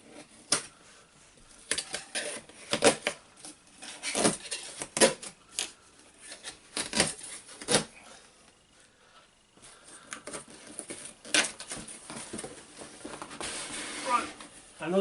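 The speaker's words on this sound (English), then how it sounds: "let's cut the tabs on these then" Cardboard tabs on Lego set boxes being cut open, giving a run of brief, close snipping and tearing clicks at an irregular rhythm with quiet handling between them and no talking.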